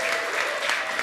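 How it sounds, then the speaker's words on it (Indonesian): Audience applause for a stand-up comedian at a comedy show in Solo: dense, steady clapping from a crowd, loud and close, filling the whole short moment without a break. "tepuk tangan dong untuk terima kasih"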